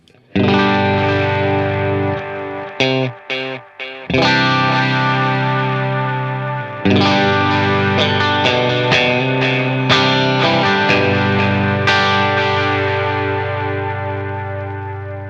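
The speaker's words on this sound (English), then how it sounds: "it degrades the trails and kind of almost gives you a distortion delay thing" Electric guitar chords ring out through a Source Audio Nemesis Delay pedal on its degrade setting, their repeating trails gritty and distorted, with a few choppy stops before long smeared decays.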